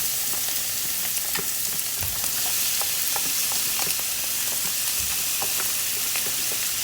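Chopped onion sautés in a tablespoon of oil in a pan, making a loud, steady hiss of frying with scattered light pops and occasional stirring scrapes, with no voices over it.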